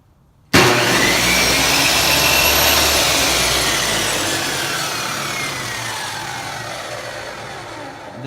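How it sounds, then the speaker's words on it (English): A power saw pulled from the trash starts up abruptly and runs continuously, a loud, harsh whine that holds steady and slowly fades slightly over several seconds, with no talking over it. "That is a beautiful sound, guys. The saw runs fine."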